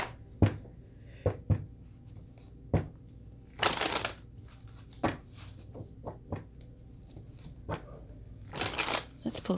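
A Golden Wheel Tarot deck is shuffled in a series of sharp riffling bursts, close and crisp, with brief pauses between them and quiet room tone underneath.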